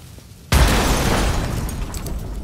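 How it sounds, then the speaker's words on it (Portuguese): A sudden loud explosion in Grand Theft Auto: San Andreas with a high-quality sound mod bursts in after a quiet moment, followed by a sustained roaring rumble that slowly decays. "E as explosões que vocês já viram também."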